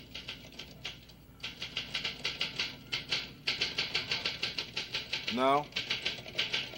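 Typewriter typing in quick rhythmic bursts of sharp key clacks with short pauses, followed by a ratcheting carriage return zip, and a brief spoken word.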